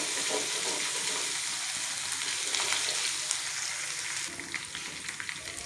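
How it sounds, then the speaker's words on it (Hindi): Ginger-garlic masala fries in a pan for a black pepper chicken gravy, hissing with a constant close sizzle and occasional light stirring scrapes, with no voices. "अब ये देखिए मसाला हमारा अच्छे से भुन चुका है।"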